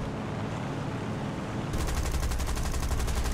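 An aircraft's machine guns fire in the War Thunder video game, kicking in partway through as a loud, rapid, continuous stream of shots over a steady engine roar.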